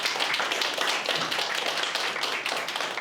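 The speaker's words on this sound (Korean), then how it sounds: "박수를 맞아주십시오." Audience applause filling a packed auditorium as a young speaker is welcomed to the stage at a Korean event, a dense, steady wash of many hands clapping for about three seconds with no talking over it.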